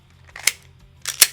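Trigger reset on a Glock 22 Gen 4 pistol: two sharp, crisp clicks spaced about three-quarters of a second apart, close and isolated against near silence.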